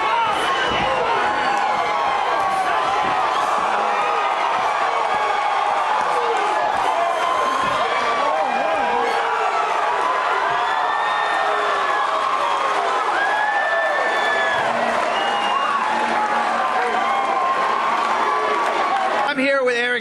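An arena crowd roars and cheers after a first-round knockout at a fight event, a steady loud wash of shouts and whoops with voices talking over it.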